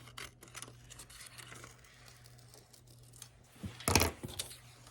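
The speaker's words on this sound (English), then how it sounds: "I'm just going to cut this part out." Scissors cut out a fabric template piece for a small AirPod Pro pillow holder, making a run of close, soft snipping and rustling strokes, with a louder crisp cut near the end.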